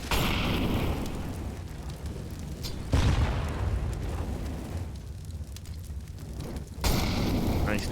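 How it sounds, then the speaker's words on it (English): A grenade blast in Counter-Strike on the Dust2 map bursts loudly over continuous game noise, followed by further booming impacts, with a commentator's voice running underneath. "Nice nade in, half damage."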